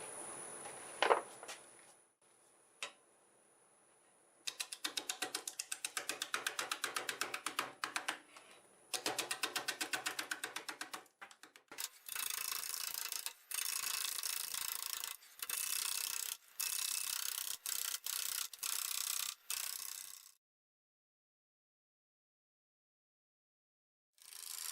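A Siberian elm crotch spins on a wood lathe at about 500 RPM while a 5/8 bowl gouge cuts it, giving repeated loud, rasping bursts of shearing, separated by brief pauses and ending in silence.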